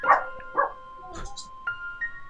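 A person imitates a dog in a Minecraft haunted-mansion escape game, giving a few short yipping barks spread over two seconds, close and moderately loud, with no other talk.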